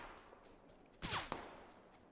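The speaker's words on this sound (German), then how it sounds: "Schüsse." Gunfire in a video game: a short burst of two or three sharp reports cracks out in the middle, fairly faint and distant-sounding over a quiet background.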